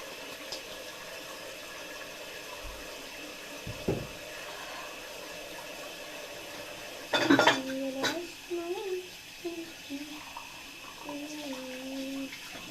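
Dishes are washed by hand under a running tap, with water splashing and dishes and cutlery clinking close by, louder in the second half, while someone talks.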